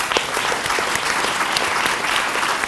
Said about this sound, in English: invite you to give a round of applause to our amazing